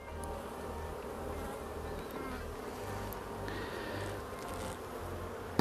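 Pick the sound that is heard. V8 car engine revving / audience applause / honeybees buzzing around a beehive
honeybees buzzing around a beehive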